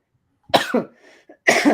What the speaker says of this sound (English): Sorry, so still coughing.